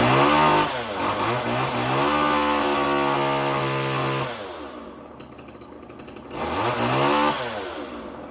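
Homelite XL chainsaw with a suspected bad air leak into the carburetor, running loud and close with a steady high revving buzz that drops to a rough idle near five seconds, then revs up again.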